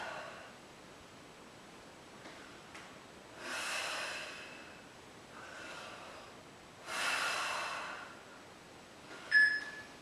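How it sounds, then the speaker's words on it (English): Breathing during a Pilates exercise: soft, airy breaths in a steady, slow rhythm, ending in one big forceful exhale, close to the microphone, with brief light rustles, no talk. "Big exhale up."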